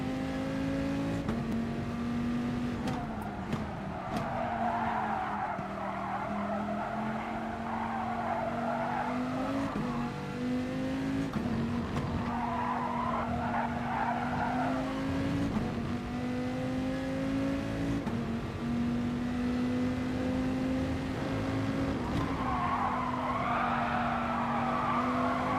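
Race car tyres squeal repeatedly during a GT Sport lap at Spa, with a steady engine drone throughout and the high screech rising and fading several times as the car corners; no talk is heard.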